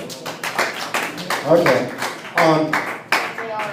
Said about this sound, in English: Round of applause if I can clear the topic.